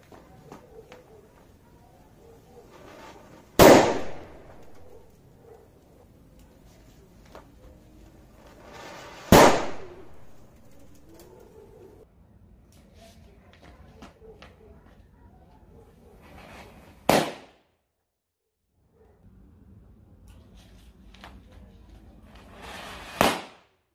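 Heavy Diwali bullet firecrackers explode outdoors in four sharp, loud blasts spaced several seconds apart, with a low background hum between them.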